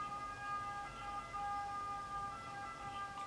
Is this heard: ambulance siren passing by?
yes